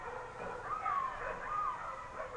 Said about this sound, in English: those are just people's dogs freaking out at it.